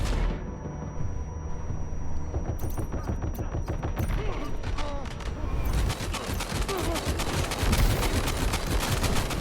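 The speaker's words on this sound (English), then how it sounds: "Oh shit, grenade!" A grenade explodes amid dense gunfire in the video game Death Stranding 2, with rapid bursts of shots and booming hits rattling on continuously and loudly.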